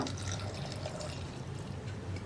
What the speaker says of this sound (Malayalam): പിന്നെ നമ്മൾ ചേർക്കുന്നത് വെള്ളമാണ്. വെള്ളം ചേർക്കുമ്പോൾ ഈ വെജിറ്റബിൾസിൻ്റെ ലെവലിൽ തന്നെ നിൽക്കുക.